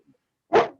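A dog gives a single sharp bark nearby, loud and abrupt after a moment of near silence, followed by a brief soft trailing sound.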